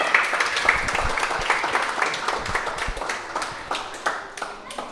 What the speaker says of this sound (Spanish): Demos un aplauso al Señor esta mañana